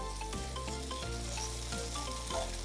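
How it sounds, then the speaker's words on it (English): Tofu sizzles and crackles in a hot frying pan while being stirred, a loud continuous fry close by with occasional scraping strokes and no talk. "Stirring this right now, it's starting to look tan."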